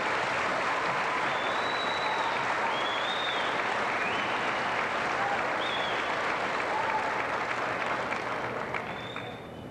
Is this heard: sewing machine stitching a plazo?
no